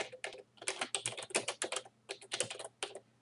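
Fingers tap out text on a computer keyboard while entering a title in a word processor, producing quick, close bursts of clicking keystrokes separated by short pauses.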